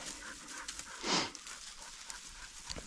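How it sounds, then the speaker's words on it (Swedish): A hunting dog on a roe deer hunt panting heavily and rapidly up close outdoors, one louder breathy burst in the middle, with faint rustling around it. "Hunden är här nu"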